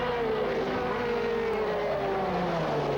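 Formula 3 race cars from the 1984 season screaming past together, a continuous high engine whine with a slowly falling pitch as they pull away, loud and steady throughout with no talking.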